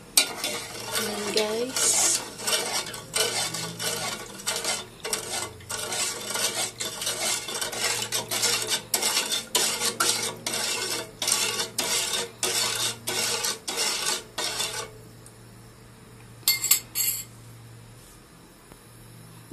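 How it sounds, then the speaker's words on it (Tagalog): A spoon stirs homemade hair-removal wax in a pot. The scraping strokes repeat rapidly and loudly for about fifteen seconds, then stop, leaving a low hum and a few clinks. A voice speaks briefly. "halo-haloin po natin siya para hindi po dumikit ang ating gagawing wax"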